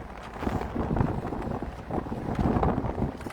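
Gusty, cold wind buffeting the microphone in a jungle in Africa, a low rumbling rush that swells and fades steadily throughout.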